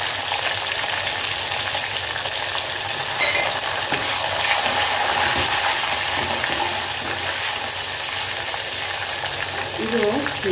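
Garlic and small sambar onions (shallots) sautéing in a pan for a sour-spicy snake gourd pepper curry, a loud, continuous sizzling hiss steady from start to finish with occasional stirring scrapes.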